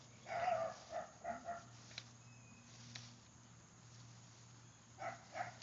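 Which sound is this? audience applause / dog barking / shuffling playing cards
dog barking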